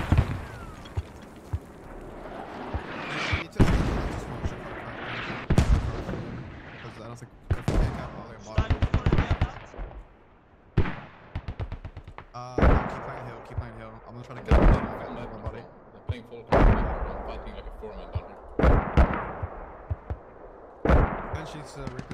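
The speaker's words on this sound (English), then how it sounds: "Mortars here are good. I think these are RaT's mortars." Mortar rounds land in the video game Squad as heavy booms, about a dozen at irregular intervals, each trailing off in a low rumble, with voices talking faintly between them.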